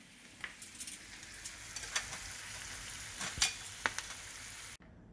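Chicken for dynamite chicken frying in a pan over medium-high heat, a steady close sizzle with occasional faint clinks and stirring scrapes, no voices.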